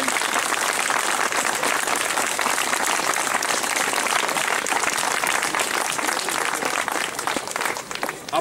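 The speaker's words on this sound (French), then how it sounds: "je vais vous demander quand même de les applaudir" Sustained applause from an outdoor audience at a 70th anniversary liberation commemoration in Boiry-Notre-Dame, steady dense clapping filling the whole stretch before thinning slightly near the end.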